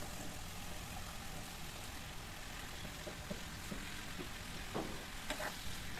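Bottle gourd pieces frying in spiced masala for a fish curry give a low, steady sizzle with a few light clinks of stirring near the end.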